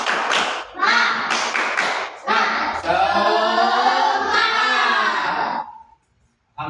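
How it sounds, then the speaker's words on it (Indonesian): Indonesian 'tepuk semangat' clap chant performed by a group in a classroom, with rhythmic bursts of clapping followed by a long, loud sustained shout from many voices, then a brief pause. "Untuk menambah semangat, tepuk semangat."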